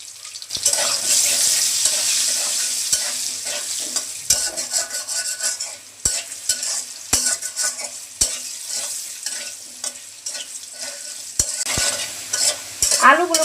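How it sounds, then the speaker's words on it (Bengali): Potatoes frying in oil with salt and turmeric for a rohu fish-head muri ghonto, with steady sizzling and repeated sharp spatula knocks and scrapes against the pan, close up and with no talking. "আলুগুলোকে লাল করে ভেজে নিচ্ছি"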